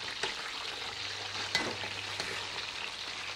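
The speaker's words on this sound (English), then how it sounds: "I am simply frying some slices of potato," Steady crackling sizzle of potato slices frying in hot olive oil, continuous and fairly close, with a few sharper pops and no talking.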